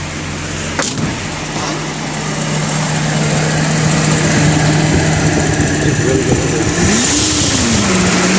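A Datsun 240Z engine idles with a steady hum, then revs up and down in rising and falling swells; a person briefly speaks over it.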